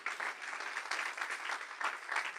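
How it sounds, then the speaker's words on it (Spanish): A church congregation applauds the Lord, dense continuous clapping that swells and dips slightly in waves, steady and fairly close, with no voices over it. "Dale otro aplauso al Señor."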